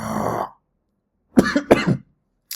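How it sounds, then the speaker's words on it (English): A single person coughs twice in a short, close burst, two sharp harsh bursts a fraction of a second apart after a moment of silence, with a faint trailing sound at the end. "That made me cough."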